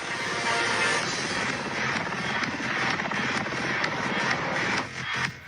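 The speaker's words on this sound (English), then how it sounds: "watch autonomous Black Hawk helicopter fly with no pilot" Black Hawk helicopter rotor noise, a dense rapid chopping thrum that holds steady and fairly loud throughout, with no talking.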